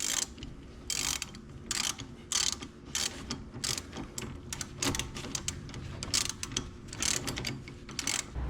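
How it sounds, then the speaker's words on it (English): A ratchet wrench tightens a nut on Jeep XJ steering parts, making repeated bursts of fast clicking in an uneven rhythm, close and moderately loud, with short pauses between strokes. "Now that our nut is started, we'll tighten it up."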